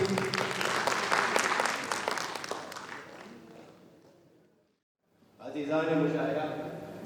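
An audience at a mushaira applauds a poet, dense close clapping that fades to silence, then a voice begins speaking.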